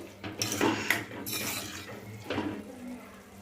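Clinks and scrapes of a utensil stirring bottle gourd curry in a cooking pan, short irregular metallic contacts close by over a faint kitchen background.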